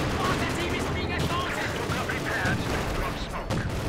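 Half-track machine guns in Company of Heroes 2 rattle in continuous, dense bursts amid a busy wartime game battle, loud and sustained throughout with other combat noise mixed in.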